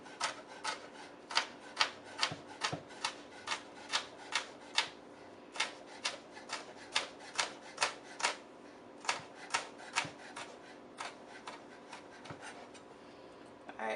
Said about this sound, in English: Then you want to go long ways. And we're going to cut down.